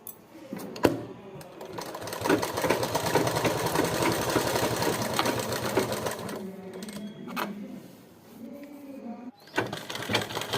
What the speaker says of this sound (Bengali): এবার আমি সব পার্টগুলোকে জয়েন্ট করে আমি ব্লাউজটাকে সেলাই করে নিচ্ছি